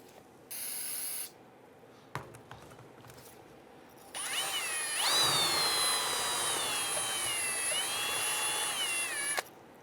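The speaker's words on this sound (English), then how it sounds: "next we're going to use a bore brush, just a bristle brush on our drill." Power drill spinning a bristle bore brush inside the ports of a brake caliper on a 1999-2004 Jeep Grand Cherokee, a brief short whir, a pause with small knocks, then a longer steady high-pitched whine that holds and stops abruptly.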